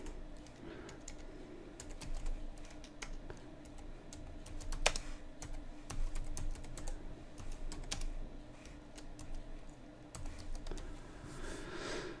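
Steady typing on a computer keyboard as an ipconfig command is entered at a command prompt, with irregular clusters of key clicks and occasional sharper taps over a low room hum, no talking.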